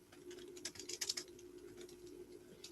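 Quiet computer keyboard typing, a short burst of light clicking keystrokes clustered in the middle against a faint steady hum.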